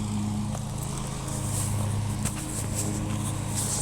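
A lawn mower works its way across a hillside, giving a steady low engine drone that holds at a moderate distance throughout, with no voices over it.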